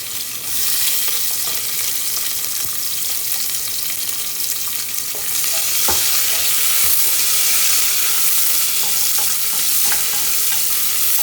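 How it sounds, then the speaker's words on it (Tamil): Onion frying with green chillies in oil gives a loud, continuous close-up sizzle, punctuated by occasional clicks and scrapes of stirring, with no voices over it. "ஸோ பச்சை மிளகா நல்லா ஃப்ரை ஆனோன்னா இதில் நம்ம எடுத்து வச்சுருக்க ஆனியன் ஆட் பண்ணிடலாம்."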